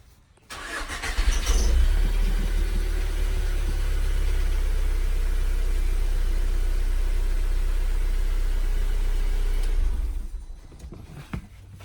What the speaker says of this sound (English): start your car for just a couple of seconds to let the oil run through